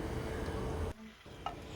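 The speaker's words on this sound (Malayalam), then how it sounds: "ഇനി എല്ലാം കൂടെ നല്ലതുപോലെ ഒന്ന് മിക്സ് ചെയ്തെടുക്കാം." Okra aviyal with water is stirred in a pan, a soft scraping and bubbling sizzle that breaks off briefly, then resumes with a light clink of the utensil.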